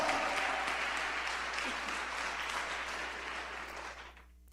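A church congregation applauds, a dense wash of clapping that is fairly quiet and distant, holding steady before fading out at the end.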